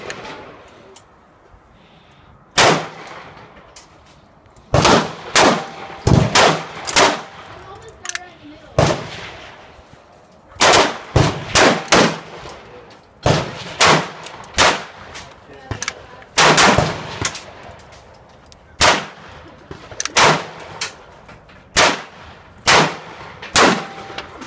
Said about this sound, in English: that was 22 long rifle. First time it's been fired.